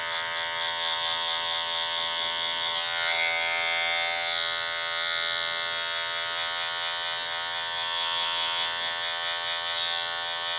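Hair clipper fitted with a 1.5 guard, blade closed, buzzing steadily and close up as it passes over a section of hair during a beard shape-up and man bun cut, continuous with no talk.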